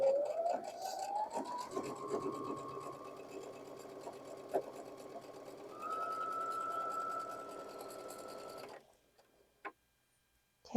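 A sewing machine stitches Card Trick quilt block fabric in a long continuous run, its motor whirring with a fast ticking needle beat, briefly changing pitch partway through, then stopping abruptly, followed by a couple of faint clicks near the end.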